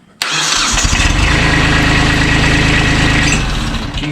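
An old Kubota B7500 tractor that had been left sitting starts up: one sharp catch, then the diesel settles straight into a loud, steady rumble close by that eases off slightly at the end.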